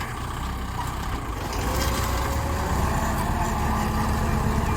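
Kubota tractor, around 50 horsepower, ploughing a rice paddy, its diesel engine laboring in a steady, continuous drone close by, with no talk over it.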